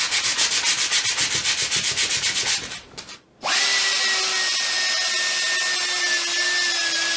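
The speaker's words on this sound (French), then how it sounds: "quelqu'un qui meule un vilebrequin, c'est pas très banal" Abrasive grinding on a rusty crankshaft: a rhythmic pulsing scrape that stops briefly, then gives way to a steady high-pitched whine of the grinder running against the metal, close and continuous.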